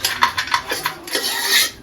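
Metal pots, pans and cutlery clatter and clink as dishes are lifted out and handled in a home kitchen, a series of sharp close knocks and scrapes, with no one speaking.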